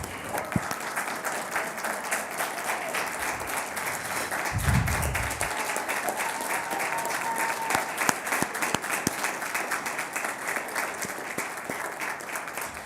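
An audience applauds at a school district's monthly board meeting to honor the outgoing chairwoman and vice chair, a steady, full roomful of clapping that holds for about thirteen seconds without letting up.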